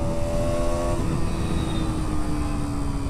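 A KTM Duke 125 motorcycle at full throttle gives a loud, steady high-revving engine drone whose pitch climbs and shifts as it pulls past 6500 RPM.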